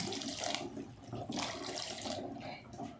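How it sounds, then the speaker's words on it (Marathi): Hot water pours in several gushing bursts into a pot of chickpeas, fairly close and moderately loud, with brief pauses between pours. "आता याच्यामध्ये थोडंसं गरम पाणी"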